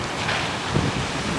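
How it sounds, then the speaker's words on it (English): Steady gusting wind by the water outdoors near a pool, broad rushing noise buffeting the microphone throughout, with no talking. "It's so windy."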